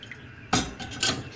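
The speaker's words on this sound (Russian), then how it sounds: "на разогретую сковороду наливаем чуть-чуть водички" Water splashes into a hot frying pan with a sudden loud hiss, followed by a second sizzling burst as it spits and bubbles.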